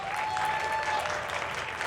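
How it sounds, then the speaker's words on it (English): Crowd applause for bands at an outdoor Battle of the Bands festival, a thick continuous roar of clapping that stays steady and fairly loud, with a faint tone and a few voices in the mix. "Give another big round of applause to all the bands here performing."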